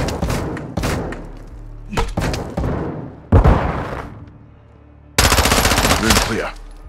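Gunfire in the Modern Warfare 2 (2022) campaign: loud bursts of rapid automatic shots and single heavy reports, separated by short gaps, with a sustained barrage at the end.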